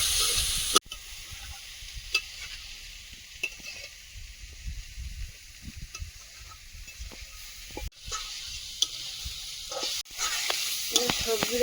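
Capsicum stir-fried for village-style chicken chow mein in a pan, with a steady sizzle and repeated scrapes and clinks of the spatula, two brief sharp knocks, and no talking.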